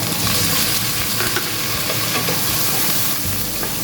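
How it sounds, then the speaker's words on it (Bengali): Soaked chickpeas are stirred with salt in a hot frying pan for a Bengali banana-flower dish, giving a loud, dense, unbroken sizzle and fry with the clatter of stirring underneath. "ভালো করে নাড়াচাড়া করে নেব।"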